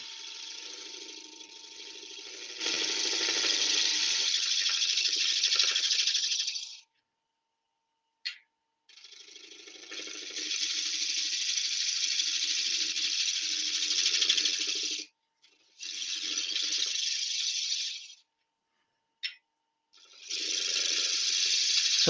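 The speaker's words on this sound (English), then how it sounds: "So that's the left wing of the gouge I'm using there. Just to take a tiny little shear cut out of it." Wood lathe gouge taking a light shear cut off a turned shoulder, using the left wing of the gouge: steady hissing, scraping bursts in several passes with short silent gaps between them.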